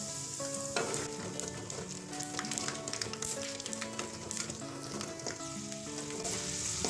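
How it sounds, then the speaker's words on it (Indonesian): Steady crackling sizzle of peanuts frying in hot oil, constant and close, with faint scraping of stirring and a soft background tone. "Saya akan goreng kacang tanah terlebih dahulu."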